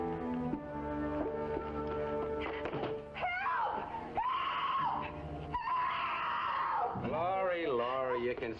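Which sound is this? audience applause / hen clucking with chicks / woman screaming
woman screaming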